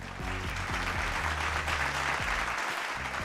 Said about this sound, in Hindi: बहुत सारी तालियां हारने और जीतने वालों के लिए